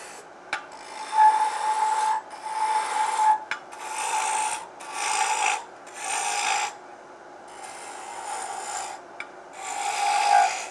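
A honey dipper is turned on a wood lathe with a roughing gouge, giving repeated rasping, scraping passes of the tool on spinning wood in bursts of a second or two with short pauses between, close and clear with no talk.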